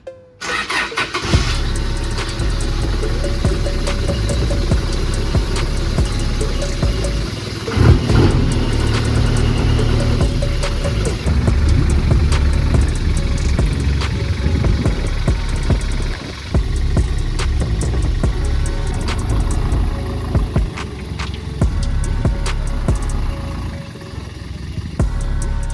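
A Land Rover Expedition engine cranks and catches, then settles into a steady, loud throbbing idle close by that runs without pause.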